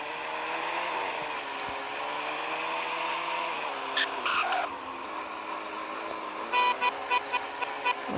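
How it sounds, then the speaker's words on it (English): A car horn in the Roblox Greenville driving game sounds over a steady engine-like drone, giving a few short honks near the end, with no talk. "That is a horn."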